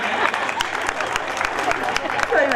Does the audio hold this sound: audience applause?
yes